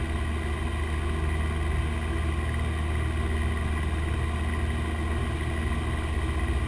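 Cessna 172P piston engine running steadily on the runway at KFLG, a loud continuous drone with a strong low hum throughout, no talking.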